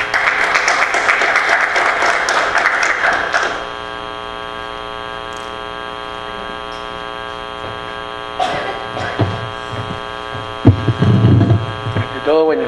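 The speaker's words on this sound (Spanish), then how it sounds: "un fuerte aplauso al doctor Percy Castillo" An audience at a constitutional law lecture bursts into dense clapping for the lecturer, which stops abruptly after a few seconds and leaves a steady electrical hum, then a few scattered knocks and shuffles.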